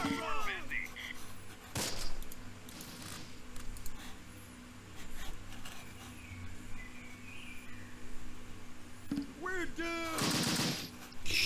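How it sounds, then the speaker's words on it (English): Mortar fire in the WWII tactics game Close Combat, during a foggy night assault: sharp booming blasts and crackling bursts land at intervals, with a heavy cluster near the end over a low ambient hum. "Let's keep firing more mortars towards that position."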